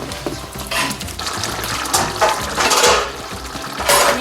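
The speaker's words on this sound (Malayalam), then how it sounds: "ഇതിലേക്ക് നേരത്തെ തയ്യാറാക്കി വെച്ച തേങ്ങാപ്പാൽ ഒഴിച്ച് മാങ്ങ വേവിക്കുക." Coconut milk poured over mango pieces in a pot for Kerala-style mango curry, a soft liquid splashing and gurgling with intermittent bursts, close and moderately loud, no talking.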